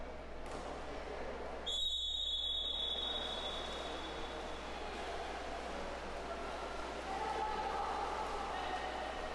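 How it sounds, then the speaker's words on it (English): A referee's whistle at a college sports game gives one clear, shrill blast about two seconds in, then fades, over steady crowd and field noise with faint commentary. "Whistles galore."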